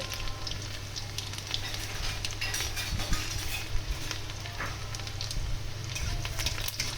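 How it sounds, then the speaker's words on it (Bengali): Thin-sliced garlic frying in oil in a pan for a garlic okra dish, a steady close sizzle running throughout with faint scrapes and a few soft clinks. "রসুনটা দিয়ে দিলাম বা রসুনটা আমি একটু ফ্রাই করে নেব"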